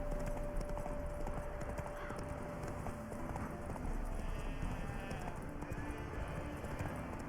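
Horse hooves galloping in The Witcher 3, a rapid, rhythmic clip-clop over a dense game soundscape, fairly quiet, with faint voice-like sounds in the background.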